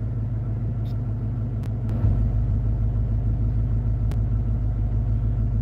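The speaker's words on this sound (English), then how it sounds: "And cruising around in my car." Low, steady car engine rumble heard from inside a car while cruising, continuous and fairly quiet with a couple of faint clicks.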